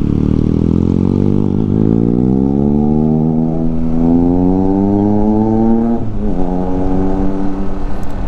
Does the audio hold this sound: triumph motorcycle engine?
yes